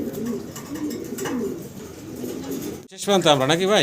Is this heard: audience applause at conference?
no